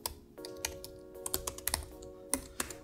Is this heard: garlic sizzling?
no